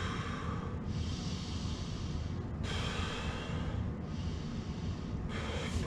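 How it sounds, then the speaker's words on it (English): Deep, slow breaths during a Kundalini yoga exercise, with long airy inhales and exhales repeating at a steady rhythm over a constant low room hum, close and fairly quiet, no talking. "take a couple deep breaths"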